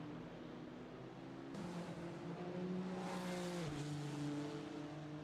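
GT3 race cars lapping Barcelona in a racing video game, engine drones rising and shifting in pitch as cars accelerate and change gear, moderately loud and continuous without commentary.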